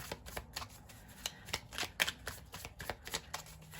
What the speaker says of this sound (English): Let's get a tarot and see if we can find out.